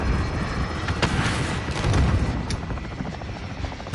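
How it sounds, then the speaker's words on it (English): Gunner helicopter in Call of Duty Warzone, a continuous rotor thrum with scattered sharp gunfire cracks and booms over it, fairly loud and close throughout. "That gunner chopper's taking all the kills."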